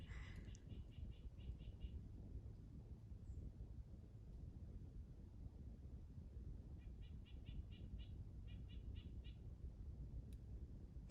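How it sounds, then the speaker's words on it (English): A small bird repeats its short song in bursts of quick, high, evenly spaced notes on a mountain trail, faint and somewhat distant over steady wind noise, with a quiet gap between phrases. "this bird and his little song is driving me insane."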